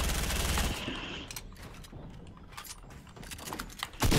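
Gunfire in the Fortnite video game, with a loud burst at the start, then scattered softer shots and clicky mechanical sounds, ending in another loud blast.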